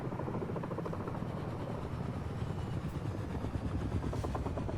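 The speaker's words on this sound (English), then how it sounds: "I hear a helicopter. Okay, here comes there's a helicopter." A helicopter's rotor thumps steadily and continuously in the video game Fortnite, a rhythmic chopping drone that stays at an even, fairly close level throughout.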